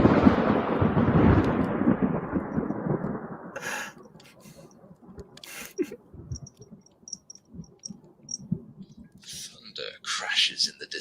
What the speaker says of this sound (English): Thunder crashes in the distance.